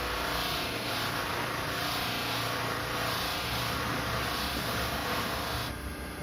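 A wax buffing wheel spinning on a wood lathe gives a steady, unbroken motor hum and whir at close range, constant in level for several seconds with no talk.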